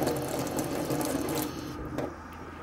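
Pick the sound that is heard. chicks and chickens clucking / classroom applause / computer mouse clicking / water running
water running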